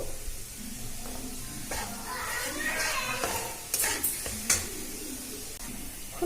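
A ground spice paste mixed with water is stirred and fried in a pan for a spicy chickpea dish, giving a steady sizzle with scraping spatula strokes and a few sharper hissing bursts near the end.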